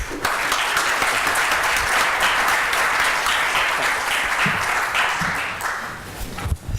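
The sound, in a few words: conference audience applause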